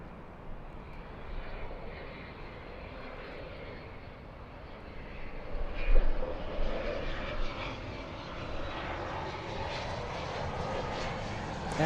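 Boeing 787-9 Dreamliner departing toward Haneda, a steady broad engine roar that swells near the middle and holds on, heard from a distance.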